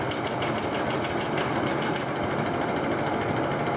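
A 6-volt engine running rich, chugging with a quick rhythmic knock that pulses steadily for about two seconds and then settles into a more even, continuous drone, loud and close.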